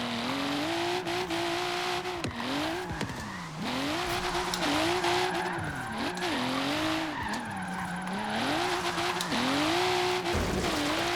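A Forza Horizon 3 race car revs and shifts while its tires squeal through repeated skids, a loud continuous engine whine rising and falling with each slide.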